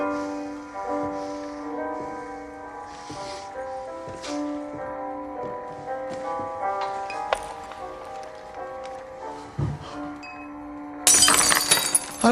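A glass is dropped in a bar and shatters on the floor in one sudden, loud crash near the end, after a stretch of quiet sustained music.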